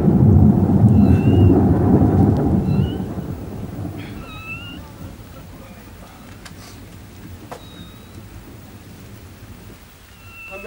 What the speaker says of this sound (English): I've never seen rain like this.